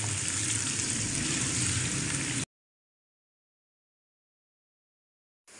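A large chopped onion sizzles steadily in a hot pan for a cooking pulao, a constant hiss lasting about two and a half seconds before cutting abruptly to silence.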